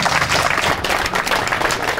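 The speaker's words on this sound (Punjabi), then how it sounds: "ਹੁਣ ਮਰਦੀ ਆ ਤਾਲੀ ਬਈ" Audience applause at a Punjabi comedy mehfil in Sandhwan, Faridkot: dense, steady clapping from a crowd with no voices over it, sustained at even loudness for the whole stretch.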